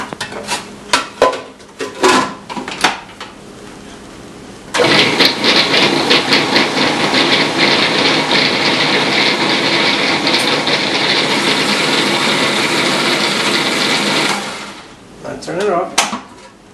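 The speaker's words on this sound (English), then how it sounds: "Now we're gonna grind this up." A food processor grinds roasted eggplant for baba ghanoush in a loud, steady whir for about ten seconds, preceded and followed by kitchen clatter and handling noises.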